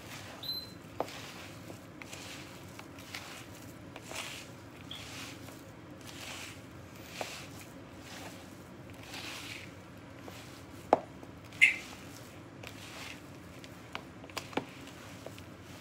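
Ham croquette dough is worked in a bowl, soft repeated squelching and light tapping of a utensil in an irregular rhythm, close and quiet with a few sharper knocks.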